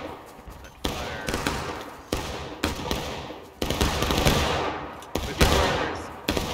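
Musket volleys ring out in the Civil War shooter War of Rights: a series of sharp, booming reports, some single and some ragged clusters, echoing across the field at irregular intervals, with muffled voices underneath.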